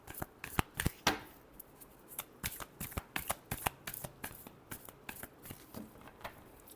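A deck of tarot cards is shuffled by hand close up, in quick papery riffling bursts that come one after another at an uneven pace.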